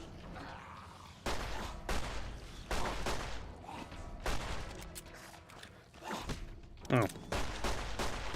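Gunfire from a gun fired from the hip in Fallout: New Vegas comes in several uneven bursts and scattered shots over a busy game backdrop, with a voice briefly reacting.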